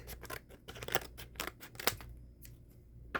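Scissors snip through packaging in a quick series of sharp, close cuts, with brief pauses between bursts and no talking.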